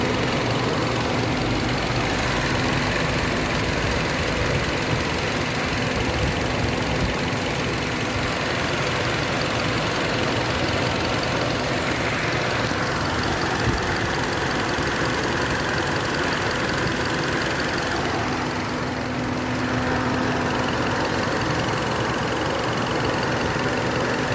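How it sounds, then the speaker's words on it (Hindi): Car engine idling steadily with a misfire and air being drawn in through a leak at the intake manifold, a constant close rumble with an uneven knock and a hissing air note throughout. "इधर से साउंड आ रहा हवा का, इनटेक का।"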